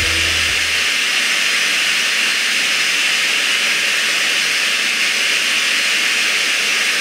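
A signal generator test signal played through an SPL Audio N-450 loudspeaker for frequency response measurement: a loud, steady broadband hiss that starts after a brief low hum and holds evenly to the end.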